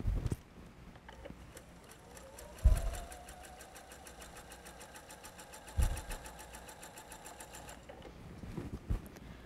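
A sewing machine runs steadily, stitching rail fence quilt block pieces in a long continuous stretch, with a few louder bumps from handling the fabric between runs.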